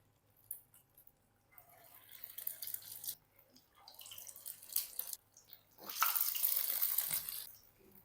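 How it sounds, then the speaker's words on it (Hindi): Lauki kofta, bottle gourd dumplings, fry in oil in a frying pan. A close, hissing sizzle swells and fades in waves, rising to a steady loud crackle near the end. "इसको मैं इस फ्राई पैन में डाल दूँगा। इसी तरह से सारे कोफ्ते मैं फ्राई करूँगा।"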